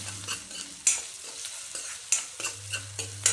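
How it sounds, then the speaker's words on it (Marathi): Garlic and green chillies frying in hot oil for a vegetable soup, with a steady sizzle and repeated scraping stirs of a spatula in the pan, close and clear, with no talking. "याला सगळ्याला आपल्याला छान भाजायचं आहे तेलामध्ये परतून घ्यायचं आहे"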